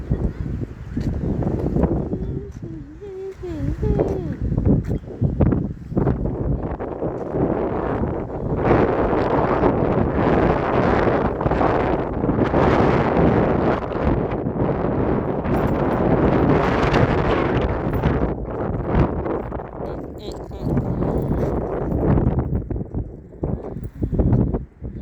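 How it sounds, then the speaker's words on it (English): Strong wind gusting outdoors, buffeting the microphone with loud, continuous roaring rumble that rises and falls over the whole stretch. "Windy."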